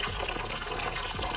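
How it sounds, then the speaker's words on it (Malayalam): A kilo of jeerakasala rice is washed by hand in water for biryani, giving a close, continuous sloshing and swirling of water. "വൃത്തിയായി കഴുകി നമുക്ക് വെള്ളം തിളക്കണയിൽ ഇട്ട് കൊടുക്കാം."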